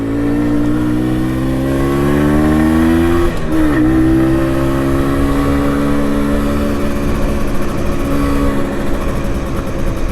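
A 1980s MZ TS125 two-stroke motorcycle engine running in town, a loud steady buzzing drone that rises slightly in pitch, dips briefly, then settles into a sustained near, continuous note throughout.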